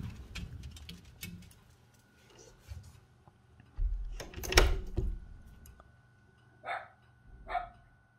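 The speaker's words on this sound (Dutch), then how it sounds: "Rijka mag niet blaffen" A dog barks in short, scattered bursts indoors, a few sharp yaps spaced apart with quieter gaps, alongside some clunks and handling noises at moderate volume.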